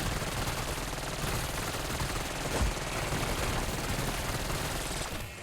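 Kompakt 92 submachine gun firing in Black Ops 6 Zombies, a dense, loud, continuous stream of rapid automatic shots running throughout with no talking.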